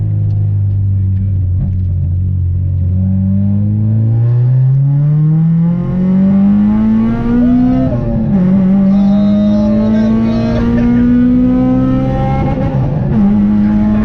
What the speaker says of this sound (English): Like little pops between the gear changes as well, isn't it?